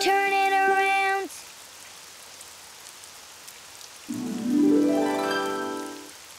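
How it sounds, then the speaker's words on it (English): Rain falls outside in a Daniel Tiger's Neighborhood video game, a soft, even hiss of rainfall underneath brief musical, voice-like tones at the start and end. "Oh, it's raining outside."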